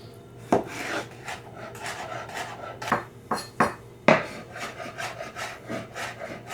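A knife slicing a jalapeno on a wooden cutting board gives a run of close, crisp chops and scraping strokes, some sharp knocks in an irregular rhythm, with no talking.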